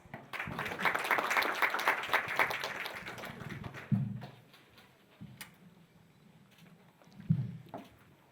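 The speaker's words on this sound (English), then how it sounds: "why don't we welcome from Viziblezone, Gabby Ofer, with another big hands of applause" An audience at a startup pitching session claps in a dense burst for the first few seconds, then it thins to scattered claps and fades, leaving brief thumps and quieter room noise.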